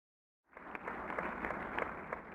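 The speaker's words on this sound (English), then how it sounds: "A muffled applause resonated faintly through the walls." Muffled applause from a crowd, dull and distant as if heard through a wall, steady after a brief silence.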